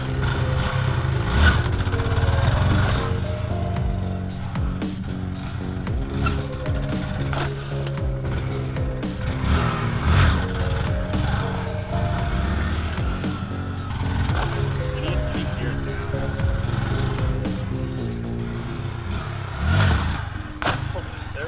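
A Honda Grom small motorcycle ridden for wheelies, its little engine buzzing and revving up and down in uneven bursts over wind noise for a long stretch, with occasional knocks and rattles.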